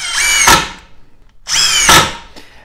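A Makita XDT19 (TD172D) impact driver runs in two loud, close bursts, each about a second long with a rising whine, separated by a short pause.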